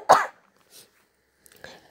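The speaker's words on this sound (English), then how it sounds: "coughing fit is done for now" Coughing during a home recording: one loud, harsh cough burst near the start, then a softer cough and a couple of faint throat sounds, close to the microphone with no speech.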